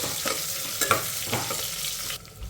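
Dried red chilies and onions fry in oil over a medium flame, a close continuous sizzle with a few scraping stirs of a spoon, quieting at the very end.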